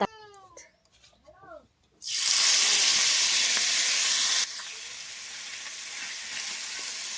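Small fish rubbed with salt and turmeric drop into hot oil in a pan and burst into a loud, steady sizzle that eases to a softer frying hiss, following a few seconds of quiet talk and bird chirps.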